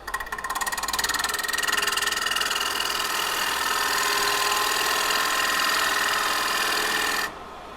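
A wood lathe spinning a lid while a pointy gouge cuts into it, a steady close motor drone with a faint continuous scraping buzz, holding level for about seven seconds before easing off at the end.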